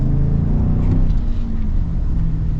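A Chevrolet truck V8 engine pulls steadily under acceleration while driving, a dense low rumble with road noise filling the cabin, loud and continuous without speech.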